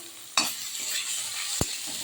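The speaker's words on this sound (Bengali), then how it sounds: "এতে দিয়ে দেবো টমেটো কুচি" Chopped tomato dropped onto softened capsicum and stirred in hot oil in a pan, giving a brief sizzle burst followed by a sharp spoon scrape, close and loud.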